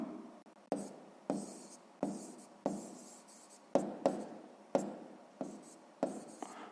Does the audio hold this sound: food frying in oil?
no